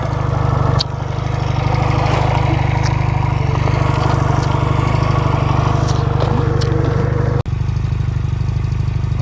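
Honda Rebel 250 motorcycle, a 2009 model, idling in neutral outdoors at sunset, a loud steady low engine throb close by that briefly dips near the end.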